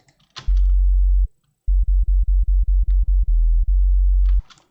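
Loud Serum sub bass sine wave, low-passed around 150 Hz with mids and highs removed, playing a long held note, a rapid run of short pulsing stabs, then another sustained note, alone with no other instruments.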